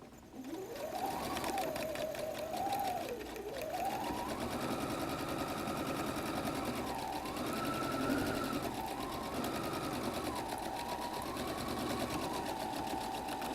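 A sewing machine stitches a messenger bag pocket in one continuous run, its motor whirring and rising and falling in pitch as speed changes, close and steady with no talk.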